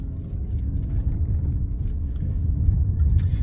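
A car pulls away from a turnabout on a driving test route in Dun Laoghaire, its engine giving a steady low rumble that builds slightly as it moves off, with no talk over it.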